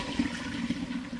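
Wort from a rauchporter all-grain mash is poured out through a grain sieve, a steady close splashing trickle of liquid that runs continuously on its own.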